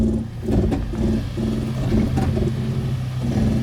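A truck crawls up a rough off-road trail in Talladega National Forest on crawl control, its engine droning loud and close under steady strain while knocks and clunks from the drivetrain break through at an uneven rhythm.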